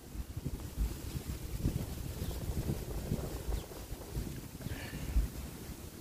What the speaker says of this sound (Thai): บรรยากาศดีครับเนี่ยลมเล่นดี